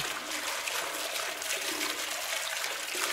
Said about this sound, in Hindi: भाई पानी भरना स्टार्ट हो गया ओ भाई साहब भाई वो देखो वो आ रहा सामने से पानी पानी भरना स्टार्ट हो गया पूल में